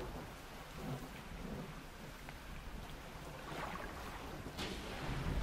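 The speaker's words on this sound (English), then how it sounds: "Oh, there's lightning. Of course there's lightning." Thunder and rain on the open ocean in the fishing horror video game DREDGE: dense, continuous rain noise with low rolling rumbles, rising slightly toward the end, with no talk.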